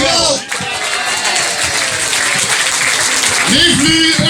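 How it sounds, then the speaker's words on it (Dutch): Audience applause at a carnival evening, dense steady clapping from a large crowd, loud and close, carrying on throughout with a voice briefly heard near the end. "Geef nu een applaus voor de Knöppele."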